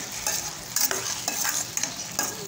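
Onion-tomato puree frying in a pan, a continuous hiss broken by repeated scraping strokes of a spoon at a regular pace, close and fairly loud, with no talking.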